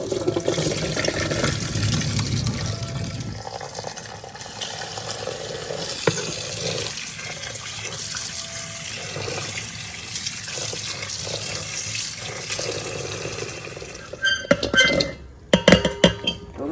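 Running water splashes steadily from a tap while bamboo shoots are rinsed, with occasional clinks of a pot, then the flow stops and a few sharp clatters follow.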